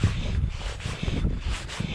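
Gusty wind of around 25 mph buffeting an outdoor microphone, a low rumbling roar that surges and fades in irregular bursts, fairly loud and close, with no voices over it.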